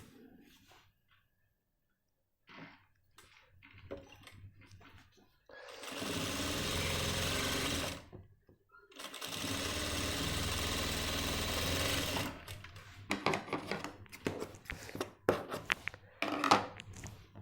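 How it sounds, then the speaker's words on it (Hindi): Sewing machine stitching down a folded pant front pocket, two loud continuous whirring runs of stitching separated by a brief pause, with quiet handling clicks and rustles before and after. "अब इसको ऐसे ही इसके ऊपर सिलाई मार देंगे।"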